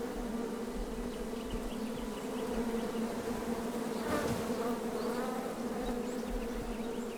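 Bees buzz in a steady, dense drone around a beehive in the King's Quest video game, a continuous insect hum with faint wavering tones and no voices.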